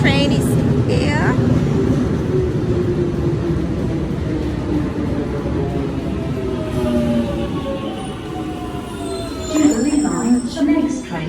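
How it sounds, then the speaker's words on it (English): A London Underground train pulls into a station platform, a steady loud rumble of wheels and motor with rising squeals and screeches toward the end, in an echoing station setting. "And our train is here."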